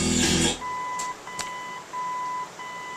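An original 1957 Cadillac Wonder Bar AM car radio set to balance mode gives a steady series of clear, moderately loud beeps in even pulses, following a brief burst of static at the start.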